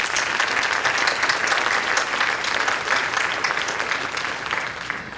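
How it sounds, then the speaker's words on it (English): Sustained applause from an audience at a high school National Honor Society induction ceremony, honoring the 2019 inductees; dense, steady clapping from many hands that thins slightly toward the end. "Could we give them another round of applause, please?"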